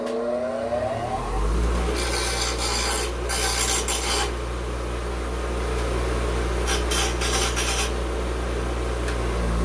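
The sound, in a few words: grinder removing burr from saw blade drill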